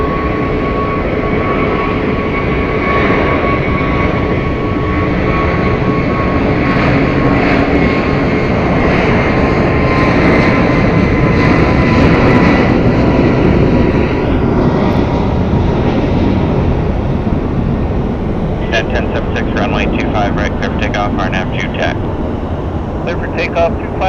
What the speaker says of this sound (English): I love the sound of the 757s.